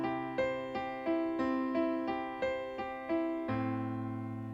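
Piano chords are played with a triplet pattern rolling up and down each chord, a steady pulse of even notes landing on the downbeat of the next chord change, close and clear, no voices.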